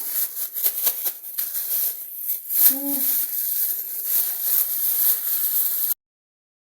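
Plastic bag holding chicken liver and flour is shaken and crinkled steadily for about six seconds, a close rustling clatter that stops abruptly near the end.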